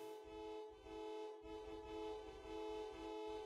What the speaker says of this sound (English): What's with all the honking?